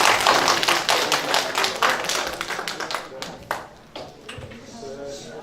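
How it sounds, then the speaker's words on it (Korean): Audience applause greets a national security committee chair about to lecture at a political forum's launch event in Incheon, a dense patter of many hands that swells early and gradually thins out. "뜨거운 박수 부탁드리겠습니다."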